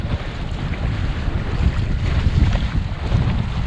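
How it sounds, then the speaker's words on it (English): Strong, steady wind roars and buffets the microphone aboard a Sunfish sailboat off Isle Royale, with water rushing and sloshing beneath it in a loud, continuous wash. "it's good consistent wind"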